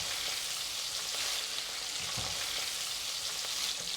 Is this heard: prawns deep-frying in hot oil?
yes